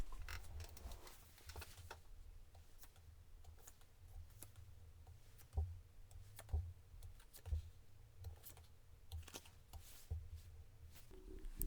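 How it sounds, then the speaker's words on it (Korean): Tarot cards are shuffled and drawn by hand, a soft, close run of papery riffles, slides and light taps repeating irregularly at low volume. "제가 카드 뽑아볼게요"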